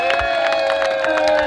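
A crowd at a 2019 political rally in Washington, DC applauds and cheers loudly for a brief moment, with shouting voices and clapping blended into a close, continuous roar.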